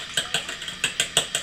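A whisk beats milk and three egg yolks together in a bowl. Brisk, rhythmic strokes tap against the sides with no talk, close and fairly loud.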